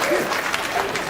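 Comedy club audience at a stand-up show clapping in a dense, steady wash of applause with some crowd murmur, moderately loud and continuous for a moment, with no clear voice over it.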